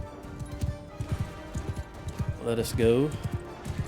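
Horse hooves clopping at a steady gallop in the medieval combat game Mount & Blade II: Bannerlord, a rhythmic run of close, moderately loud hoof beats with a brief whinny near the end, while someone talks over them.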